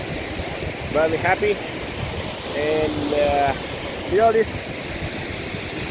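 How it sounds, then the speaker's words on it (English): The waterfall at Jahaz Banda in Kumrat valley, Dir, Pakistan, pours as a steady broadband roar throughout, with someone speaking over it in short bursts. "I deserve to appear in the video with this spectacular waterfall in my background"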